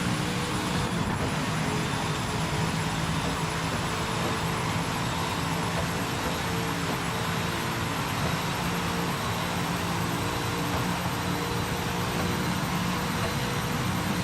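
Lister Storm race car engine in Project Motor Racing, a continuous loud droning roar holding steady throughout with no voices over it.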